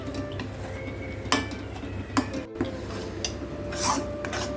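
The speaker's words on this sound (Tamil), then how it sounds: "இந்த மாதிரி கலக்கி விட்டுக்கலாங்க" Banana flower stir-fry (vazhaipoo poriyal) with turmeric being stirred in a pan, with a few scraping clinks of a spoon against metal over a steady low hum.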